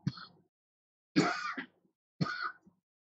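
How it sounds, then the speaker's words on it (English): Three separate coughs, close and fairly quiet, spaced about a second apart with silence between them. "Coughing your germs up on me."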